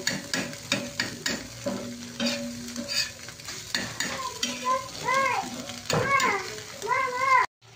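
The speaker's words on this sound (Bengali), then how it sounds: "ডিমটা অলমোস্ট আমার ফ্রাই হয়ে গেছে।" An egg fries in a pan with steady sizzling and stirring, mixed with brief tonal sounds and nearby voices throughout.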